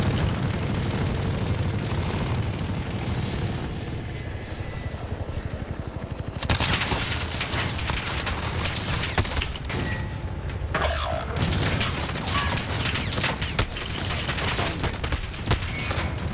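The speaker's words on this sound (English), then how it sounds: "Ooh, this guy's shooting at me." An enemy in a shooter video game fires at the player: sustained, dense bursts of gunfire roll almost continuously through the clip, loud and close.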